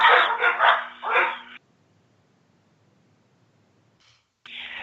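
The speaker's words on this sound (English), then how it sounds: "a barking chorus during a thunderstorm" A dog gives a quick run of loud, close barks, then falls silent before one more bark starts at the end.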